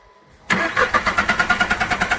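A Skoda Fabia / VW Polo diesel with a common-rail Delphi system and a starting fault cranks on its starter after a short silence, a loud, rapid, evenly pulsing churn that continues without catching.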